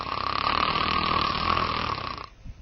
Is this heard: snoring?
yes